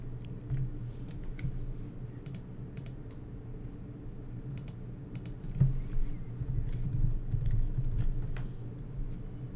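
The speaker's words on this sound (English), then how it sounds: "you can type in the first few letters of the part number" Letters of a part number are typed on a computer keyboard: scattered, light, close key clicks in short runs over a low, steady background hum, with no talking.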